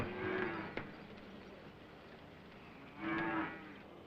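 Zebu cows crossed with Holstein give two loud, drawn-out moos, one at the start and another about three seconds later, with quieter farmyard background between them.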